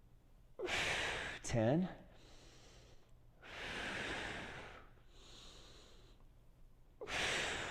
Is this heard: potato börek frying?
no